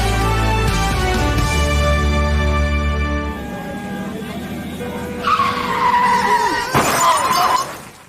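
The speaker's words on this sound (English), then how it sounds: "If your car just got bashed like that" A car skids with a long, loud tire squeal and then crashes with a sharp shatter of breaking glass and metal, up close, from a radio talk station spot.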